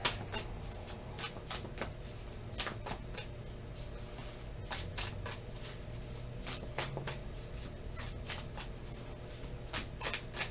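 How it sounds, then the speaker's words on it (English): Tarot cards shuffled by hand at the beach, a steady stream of quick papery riffles and flicks repeating through the whole stretch, close up, with no voices. "Let the cards shuffle another minute here."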